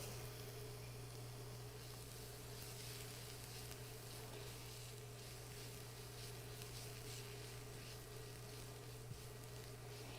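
Green onion and minced garlic sizzle steadily in hot oil for a Korean summer soup, a continuous close frying hiss with no voices and only faint stirring.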